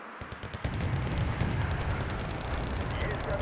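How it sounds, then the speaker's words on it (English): Buratino rocket salvo in Wargame: Red Dragon, a loud sustained roaring barrage after a few sharp launch cracks, dense rumbling continuing throughout. "And there's the other Buratino salvo."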